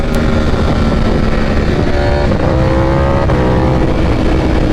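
Ducati V4 SP motorcycle accelerating hard with the throttle twisted, a loud, dense engine roar rising steadily in pitch over a few seconds, close and alone without talk.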